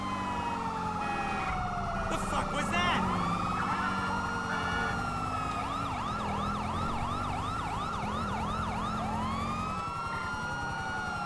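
A police car siren in GTA V wails over steady game traffic noise, rising and falling in fast repeated yelps through the middle stretch before settling back into a long sweeping tone.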